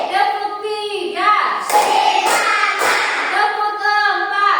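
A classroom of students claps a rhythmic pattern, a few sharp group claps bunched in the middle while a teacher's voice talks before and after them.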